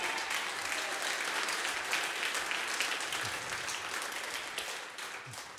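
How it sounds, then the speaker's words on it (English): Steady audience applause at a live jazz concert in New Orleans after a pianist is introduced, a dense, even wash of clapping that holds strong and tapers only slightly toward the end. "Please give y'all a round one of applause for Mr. Shea Pierre on the piano"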